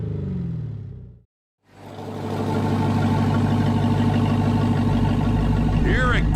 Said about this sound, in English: you can have race car loud with the flip of a switch or a push of a button